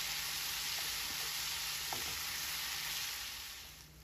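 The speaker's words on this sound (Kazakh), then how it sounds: "5-7 минут аралығында баклажанды қуырып аламыз" Eggplant that was softened in hot water sizzles steadily in a frying pan, a loud, dense crackle that holds throughout and softens slightly at the end.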